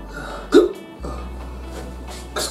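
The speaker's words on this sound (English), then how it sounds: "these hiccups, it's hot." A single hiccup, close and abrupt, stands out against a quiet indoor background, followed by a faint brief sound near the end.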